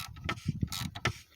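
A wrench tightens the oil filter cap during a car oil change, giving a few soft mechanical ratcheting clicks and creaks in a quiet, close setting with no talk.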